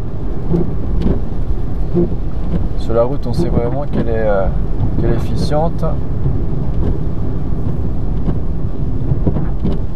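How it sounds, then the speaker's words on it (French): Steady heavy rain drums on a Volkswagen e-Up electric car driving on the road amid a constant road rumble, while a person talks over it in the foreground. "on a une bonne pluie maintenant"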